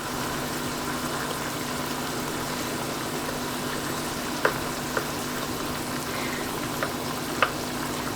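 Homegrown zucchini cooks down in a pan with a soft, steady sizzle and a few light clicks from a spoon breaking the pieces up, close and moderate in level, with no talking.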